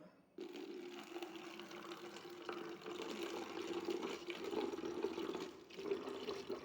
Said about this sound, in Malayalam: ഈ ശർക്കര പാനി ഈ ബോട്ടിലേക്ക് ഒഴിച്ചു കൊടുക്കുക